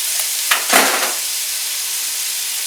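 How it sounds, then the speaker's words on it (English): Minced garlic, about a tablespoon, sizzles in a hot pan on the stove, a steady close hiss with a brief stirring scrape near the start and no talk. "I'm going to add in about a tablespoon's worth of minced garlic"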